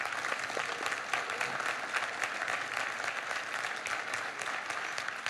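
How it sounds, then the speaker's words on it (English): An audience at an annual town meeting in Concord applauds, giving a steady dense patter of many hands clapping that continues throughout at moderate distance. "I'll let you clap."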